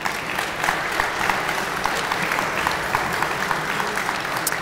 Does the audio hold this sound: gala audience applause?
yes